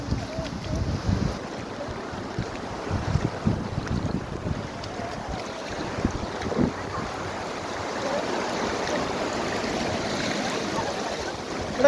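Waves slap and wash around a small boat on open water while gusty wind buffets the microphone, giving a continuous rumbling rush with uneven low thumps.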